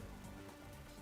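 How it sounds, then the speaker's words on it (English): Heavy rain falls in the video game Master Detective Archives, a steady, dense hiss of drops that holds at an even level for the whole moment with no voices. "we sure got some heavy rain again, huh?"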